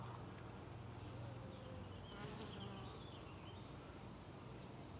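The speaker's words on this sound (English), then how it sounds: "The bees don't have a whole lot of work to do though" Honey bees buzzing in a hive, a steady dense drone close by that stays constant throughout, with faint bird calls in the distance.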